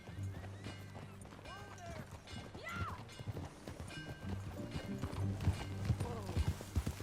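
Video game horse hooves clip-clop in a quick, steady riding rhythm, heard up close under people speaking and a low musical drone.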